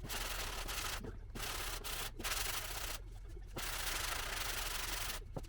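Body filler on a car hood is block sanded by hand, a close, continuous abrasive scrubbing broken by a few short pauses between strokes.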